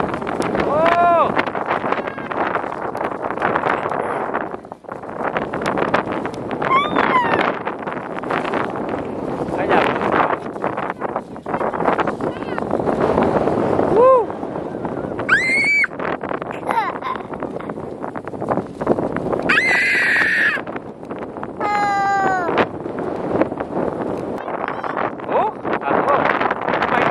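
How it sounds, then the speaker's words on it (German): Gusty wind on New Year's buffets the microphone with a steady low roar, while children's voices and shouts ring out over it. "Es ist mega windig."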